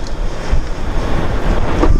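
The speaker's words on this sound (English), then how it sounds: "I think it's gotta be 30 knots out there today. It's freaking windy." Loud, steady onshore wind of about 30 knots at the coast buffeting the microphone with a constant roar and low rumble, no voices.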